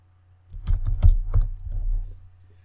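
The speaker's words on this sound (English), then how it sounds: "When you type into a document" Fingers type on a computer keyboard in a short burst of distinct, close clicks and key thumps over a quiet room hum, starting after a brief silence and trailing off at the end.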